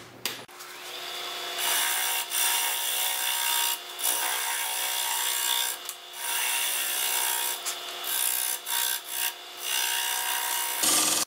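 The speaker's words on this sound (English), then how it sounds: "So I'm gonna use a spindle gouge, and I'm gonna go from the center outward" A spindle gouge cuts across the grain of a burl wood lidded box on a lathe, giving a loud rough scraping hiss that pulses in repeated passes with short gaps between cuts, close and without talk.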